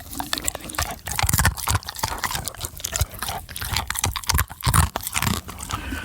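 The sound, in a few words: dog crunching on crunchy treats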